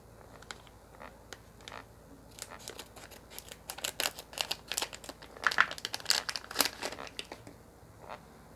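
The packaging of a small LM2596 DC-DC step-down buck converter module is unwrapped up close, giving crinkling, crackling plastic and paper rustles in irregular bursts, with no talking.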